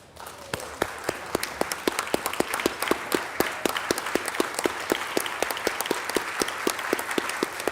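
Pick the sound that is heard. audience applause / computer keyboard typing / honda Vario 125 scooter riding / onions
audience applause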